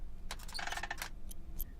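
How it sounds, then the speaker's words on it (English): Shuffling footsteps in the Knock-Knock video game, a run of soft, scuffing rustles with light clinking detail, fairly faint over a low background rumble, with two brief scrapes trailing after. "Sounds like shuffling of feet."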